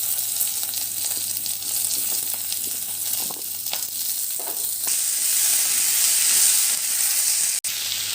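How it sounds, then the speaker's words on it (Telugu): Chopped vegetables sizzle and crackle steadily in hot oil with mustard seed tempering and asafoetida for restaurant-style sambar, a continuous close hiss with occasional stirring scrapes. "కూరలన్నీ వేసేసాక ఒక 2 నిమిషాల పాటు ఈ విధంగా వేయించుకోవాలి"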